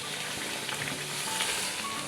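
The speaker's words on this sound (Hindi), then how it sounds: "सही आवाज़ आ रही है बबल्स की" Sugar syrup bubbles and sizzles steadily in a pan while it cooks for panjiri, a dense, close, crackling simmer with no talking.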